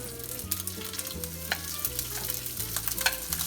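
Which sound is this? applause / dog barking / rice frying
rice frying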